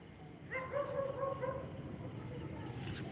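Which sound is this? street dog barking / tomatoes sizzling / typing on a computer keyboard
street dog barking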